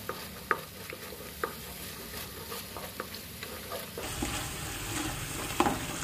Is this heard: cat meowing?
no